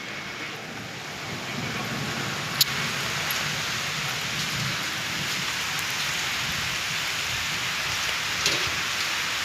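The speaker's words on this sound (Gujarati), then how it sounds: "વરસાદ તો ચાલુ થઈ ગયો જુઓ" Heavy rain pours steadily in a windy downpour, a dense, continuous hiss throughout with a single sharp click near the start and a faint knock later; no one speaks.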